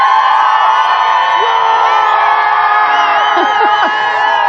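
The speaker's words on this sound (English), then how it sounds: "this crew behind me, they've committed to cheer more loudly than the BE-4s" A crowd cheers and whoops at a viewing site for the Blue Origin New Glenn rocket launch. The cheering is dense, loud and steady for the whole stretch, with scattered higher shouts rising above it.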